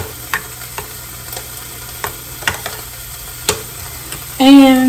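Ground hamburger in a pan is stirred and pressed down: a soft background sizzle broken by a series of sharp, close spatula scrapes and taps, with a brief tonal squeal at the end.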